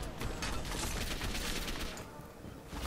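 Gunfire in the Gotham City Impostors video game rattles as dense, rapid automatic bursts, loud and continuous before briefly easing, heard alone without talk.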